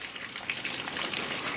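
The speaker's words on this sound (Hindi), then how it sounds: "तो ये देखिए, और बारिश भी हो गई।" Rain patters steadily onto a home courtyard during a Harchhath puja, a soft, close, crackling hiss of drops without voices.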